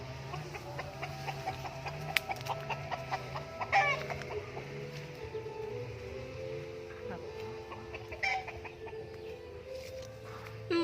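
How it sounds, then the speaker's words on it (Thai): A rooster crows at a farm beside a cassava field in the late afternoon, its call rising and falling near and loud over other clucking fowl, while someone talks over it. "ขันอยู่หุ่นครับ"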